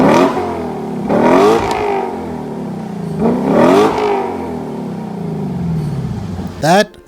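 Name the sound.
Audi RS3 engine revving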